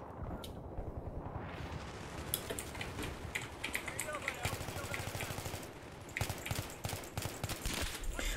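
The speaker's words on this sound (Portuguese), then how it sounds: "Dei 300 tiros nele e não morreu." Rapid automatic gunfire from the video game Metro, with dense bursts of shots crackling over a constant loud game backdrop and a few gaps between volleys; a player speaks over it.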